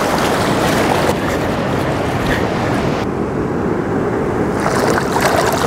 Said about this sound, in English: Waves are coming to ruin my shot.